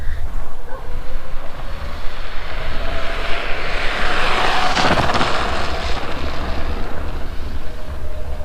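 Toursor E8 Pro electric scooter accelerating hard, a steady roar of motor whine and rushing wind that swells to a peak around the middle and then eases off, loud and close with no talking.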